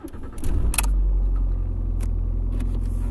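Keys jangle, then the 2.0 TDCi diesel engine of a Ford Mondeo Mk4 cranks and fires, settling into a steady loud idle rumble with a few faint clicks over it.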